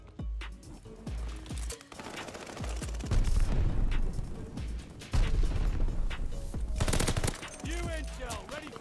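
Rapid automatic gunfire from the video game Call of Duty Vanguard comes in loud, dense bursts with short pauses between them, plus some sharp single shots and in-game effects.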